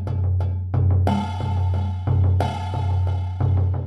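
A rhythmic Padshop 2 pattern blending taiko drum and djembe layers with aftertouch active plays steady repeating drum hits over a sustained low tone, with brighter swells roughly every one and a half seconds and no talking.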